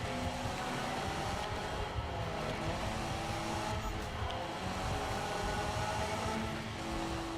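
A car drifting in Need for Speed on PS4, a steady engine roar with tire squeal through the turn, continuous and even throughout with no talk.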